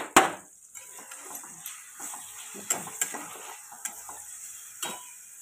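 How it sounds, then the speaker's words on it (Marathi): Onions hiss and sizzle in a hot kadhai over a high flame, with a sharp clank at the start and several scraping stirs of a utensil. "तर चला आता आपण कांदा टाकू कढईमध्ये."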